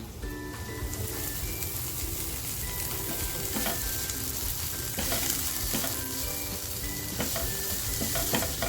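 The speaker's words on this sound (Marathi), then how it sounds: "आपला मसाला ना आपल्याला छान असा फ्राय करून घ्यायचा आहे म्हणजे लालसर आपला कांदा झाला पाहिजे" Onion masala with coriander stems and chillies fries in a pan for smoky paneer masala, making a loud, dense, continuous sizzle close up with occasional stirring scrapes, with no voices.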